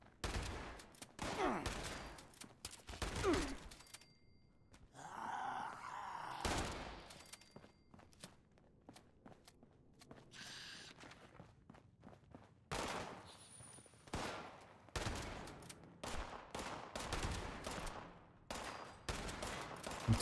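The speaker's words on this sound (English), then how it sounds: "My shotgun has too much spread from here." Shotgun blasts in Fallout 76 at Morgantown Airport crack out in irregular bursts over about twenty seconds, some loud and close, others quieter, with brief lulls between volleys and no talking.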